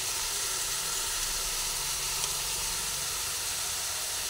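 Green chillies and onion frying in a pan with turmeric, a steady close hissing sizzle that holds even throughout with no talk.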